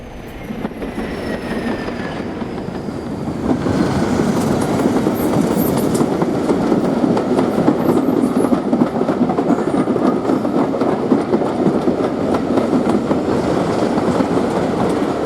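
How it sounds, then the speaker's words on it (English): A diesel locomotive with a 12-cylinder English Electric engine climbs a 1 in 78 gradient on the Swanage branch, its loud, steady engine roar swelling after a few seconds and holding, with rail noise and faint wheel squeal beneath. "Making a wonderful noise from her 12-cylinder English electric engine, 31128 reaches the summit of the Swanage branch"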